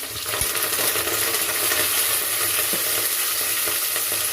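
Curry leaves and onion fry in hot oil, giving a loud, steady crackling sizzle that fills the whole stretch, with a single faint clink early on and no voices.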